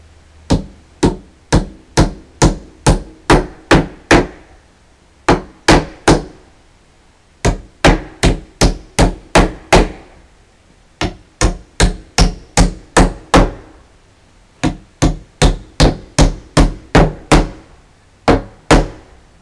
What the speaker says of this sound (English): put a nail in the bottom and nail the rest of this